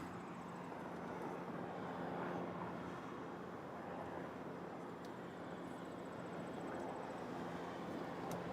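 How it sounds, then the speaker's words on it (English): A plane arriving at Toronto Pearson airport makes a faint, distant, steady jet rumble under constant wind and background hiss, with no voices. "Meanwhile, this plane just arrived."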